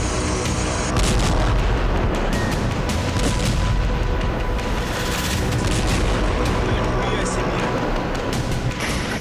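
Explosions from missile strikes in the city of Lutsk in western Ukraine, loud continuous booms and heavy blasts with rumbling, dense and sustained over a noisy background.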